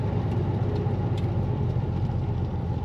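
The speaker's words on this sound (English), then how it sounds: "let's take a ride in a 1973 Triumph TR6 in bright red" A bright red 1973 Triumph TR6 convertible with a 4-speed manual runs steadily, its engine giving a continuous low rumble at a constant level with no talk over it.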